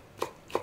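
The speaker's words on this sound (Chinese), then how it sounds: "要把它切丝，每一样东西都要把它切丝哈。" A knife chopping preserved vegetables into thin shreds on a board for Teochew-style steamed pomfret, two crisp, close cuts about a third of a second apart in a quiet kitchen.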